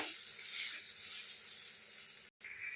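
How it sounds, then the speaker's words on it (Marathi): Bitter gourd with plenty of spice masala being stir-fried in a pan gives a steady, close sizzle with a brief dropout near the end. "तर आता याला अजून आपण एक मिनटंभर परतून देऊया आणि काढून घेऊया"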